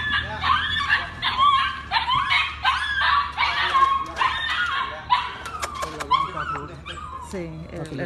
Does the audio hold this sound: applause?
no